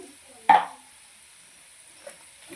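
Ginger paste being stirred into a country chicken and cashew curry, one short, sharp scrape of a spoon in the pot followed by two faint touches, with quiet gaps between.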